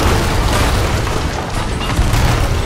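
Cannon fire in the pirate video game Sea of Thieves sends out loud, deep, rumbling booms that roll on continuously at close range, with no speech heard over them.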